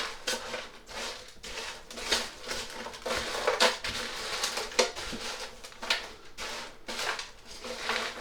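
Chicken and prawn paella is stirred in a bowl, giving a series of soft scraping and clinking sounds at an irregular rhythm, close and fairly quiet, with no speech.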